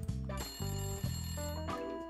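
An old-style telephone bell rings repeatedly in the Layton Brothers: Mystery Room video game, a loud, sustained electronic trill that comes in regular bursts over quiet background music, with no one speaking.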